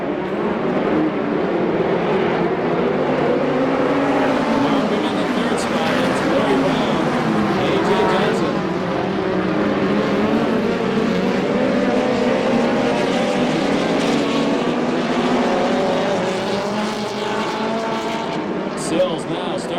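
USAC Western States midget race cars roar past at Perris, California, a continuous engine drone rising and falling as the pack circles, with a race announcer talking over it throughout.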